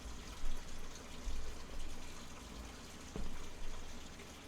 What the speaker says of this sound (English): I'm running my laundry